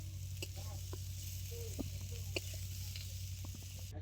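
Young jackfruit and potato pieces fry in hot oil with a steady, soft sizzle, broken by a few brief clinks and stirring scrapes; there is no talk.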